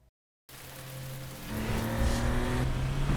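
A car drives on a wet, rain-soaked road on Bridgestone Turanza QuietTrack tires, a close steady hiss of spray and rain rising as the engine drone climbs in pitch, with no voices.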